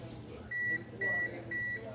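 An oven beeps to signal it has preheated to 500 degrees while prime rib is being prepared: three evenly spaced, moderately loud electronic tones, each about a quarter second long, over a low kitchen hum.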